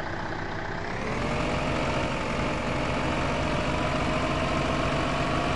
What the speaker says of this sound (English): We'll go ahead and bring this tractor out over you guys.